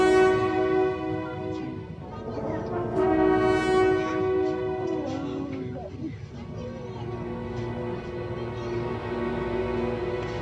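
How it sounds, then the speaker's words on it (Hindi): The Maitree Express pulls out of Gede station, its horn holding a long steady tone over the low rumble of the moving train, with a voice briefly audible underneath. "इस समय 9:30 हुए हैं और यह ट्रेन मात्र 5 मिनट रुककर इस गैदे स्टेशन से दोबारा खुल चुकी है।"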